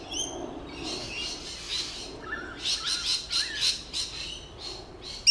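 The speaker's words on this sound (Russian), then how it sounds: "А еще какаду и куча других неизвестных нам птичек." Cockatoo squawks and assorted chirping birds in palm thickets in the Blue Mountains, Australia, calling in a busy chorus of repeated harsh bursts at moderate distance over steady background ambience.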